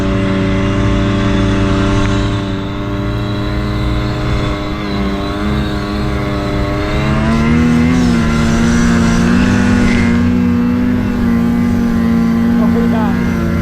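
Turbocharged snow vehicle engine droning steadily and loudly up close, with a strong harmonic hum that rises in pitch partway through as it accelerates through powder, no talk over it.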